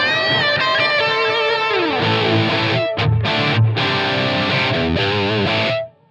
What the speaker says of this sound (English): You hear that those echoed repeats continued